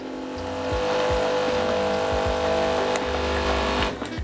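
An espresso machine pumping during extraction, a loud steady motor drone with a rhythmic pulsing buzz, close and continuous until it cuts off near the end, no talking.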